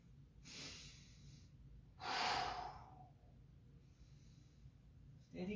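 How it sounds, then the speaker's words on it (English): Slow, deep breaths during a yoga practice, two long airy exhales close to the mic, separated by quiet pauses, with a softer breath afterward and steady low background hum. "and we breathe"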